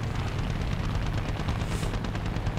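Rapid .30 cal machine guns firing in War Thunder, a continuous dense rattle of gunfire holding steady throughout with a deep rumbling low end.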